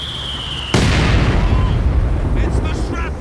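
A mortar blast in a war video game, a sudden loud boom that rolls into a sustained rumbling roar, with voices faintly heard over the tail.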